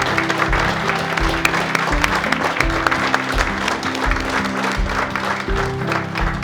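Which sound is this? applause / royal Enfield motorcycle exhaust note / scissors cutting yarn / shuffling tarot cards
applause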